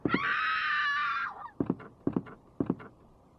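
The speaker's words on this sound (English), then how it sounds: "A generic scream." A long, loud generic scream from the Resident Evil 2 video game rings out alone for over a second, followed by three pairs of quick muffled thuds.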